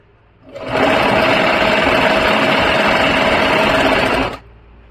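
A sewing machine stitches piping onto a kurti in one continuous, loud, whirring run of about four seconds, starting and stopping abruptly with quiet room tone on either side.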